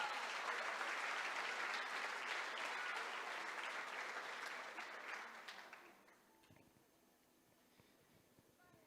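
A church congregation claps steadily and fairly loudly for several seconds, then the applause tapers off into the hush of a large hall.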